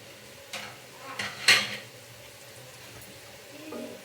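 Coriander seeds tipped into hot oil for a mutton curry give a few quiet, scattered sizzles and clicks of stirring over a faint, steady background hiss.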